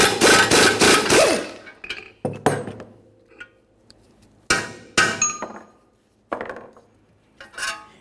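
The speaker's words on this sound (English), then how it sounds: "we'll have this in a vise, continue on with a hammer, give it a couple loving bonks" A hammer striking a ball joint from a 1994-1997 Honda Accord held in a vise, a fast burst of metallic blows followed by scattered single clanks, close and loud with ringing tails.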